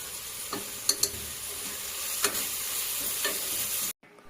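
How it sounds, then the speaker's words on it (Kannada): Onions sizzle and fry in oil and ghee with curry leaves, a steady crackle throughout with a few sharp ticks and stirring clinks, then a sudden stop just before the end. "ಈರುಳ್ಳಿನ ನೀಟಾಗಿ ಫುಲ್ಲು ಕೆಂಪು ಕಲರ್ ಆಗೋವರೆಗೂ ನೀಟಾಗಿ ಫ್ರೈ ಮಾಡ್ಕೋಬೇಕು"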